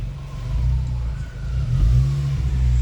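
A 2018 VW Jetta GTI stuck in gear with a transmission fault runs its engine in reverse, a loud, steady low rumble that rises gently in revs and stays close throughout.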